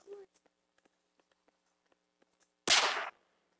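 A sharp, loud gunshot bursts out in a multiplayer Bigfoot hunting video game, a single broadband blast with a short decaying tail, following a stretch of quiet clicks and faint ticks.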